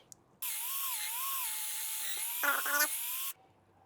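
A high-pitched drill whines steadily for about three seconds, its pitch wavering slightly as it bores into a log for growing shiitake mushrooms, then cuts off abruptly.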